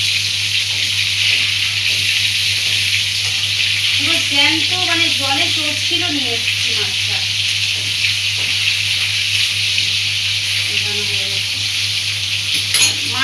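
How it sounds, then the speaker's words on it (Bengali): Katla fish frying in hot oil, a steady loud sizzle with sharp crackles and pops that runs the whole time while a person talks over it. "মাছটা মজবুত করে ভাজবো। ফাটছে, কাতলা মাছ আবার ফাটে,"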